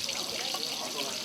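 Wine being poured into a glass, a soft continuous liquid trickle, faint and close, lasting a second or so.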